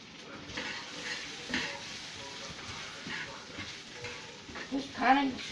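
Chicken frying in a pan while being stirred: a soft, fairly faint sizzle with irregular scrapes and light clinks of a utensil, under intermittent quiet speech.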